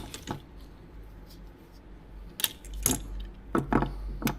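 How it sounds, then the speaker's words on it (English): Metal hose clamp on the bottom hose of a Porsche Macan coolant reservoir clicks and rattles in a few sharp, close metallic snaps and jingles over quiet background, with no talk during the work. "Now I'm going to remove the hose clamp from the hose attached to the bottom of the tank."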